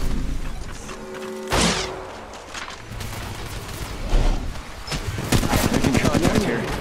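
Gunfire in Apex Legends Mobile comes in a rapid automatic burst, then a sharp shot and more bursts, loud and close, with in-game character voice lines heard in between.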